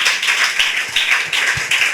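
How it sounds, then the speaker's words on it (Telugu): A church congregation claps loudly in rhythmic bursts, repeated sharp claps filling the space at close range with no voices over them. "కొట్టండి గట్టిగా చప్పట్లో."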